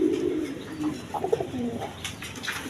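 A pair of Rajgolla pigeons, male and female, coo softly at close range, low throaty calls repeating over faint background noise.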